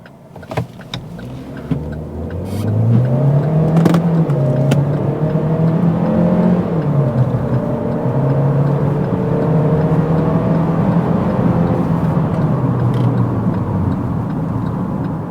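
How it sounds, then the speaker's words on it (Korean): A Chevrolet Equinox SUV pulling hard during a night acceleration test, heard from inside the cabin as a few clicks give way to an engine note rising steadily through the gears, with a steady road and wind rush beneath. "주행 시작에 앞서서 일단 가속 테스트를 먼저 한번 좀 해볼게요."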